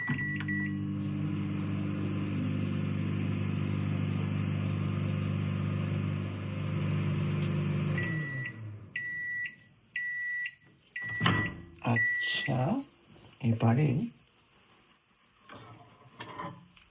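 A microwave oven heating a shortcut dinner hums steadily and loudly for about eight seconds, then stops with a few short electronic beeps followed by scattered handling clatter nearby.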